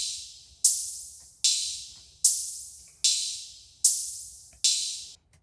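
Ride cymbals from a drum track wash out in a steady pattern of seven bright hits, each ringing and fading before the next, clear and upfront with nothing else playing.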